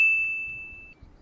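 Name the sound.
notification bell ding sound effect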